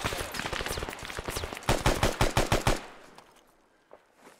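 Gunfire rings out in an ARMA video game firefight: rapid overlapping bursts of automatic fire, then a run of distinct loud single shots that fade away, followed by a faint lone shot.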